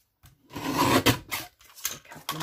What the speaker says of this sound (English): Just use this little trimmer.